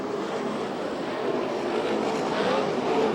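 Sprint cars race around a dirt track at a USAC National/CRA championship night in Phoenix, their engines a loud continuous roar that swells slightly as the pack passes.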